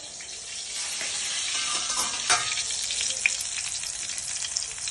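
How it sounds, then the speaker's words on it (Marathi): Prawns fry under a lid in a pan, giving a steady, loud, even sizzle with faint crackles and pops throughout, with no one talking. "त्याला झाकण ठेवून 5-5 मिनिटं फ्राय करून घेऊयात."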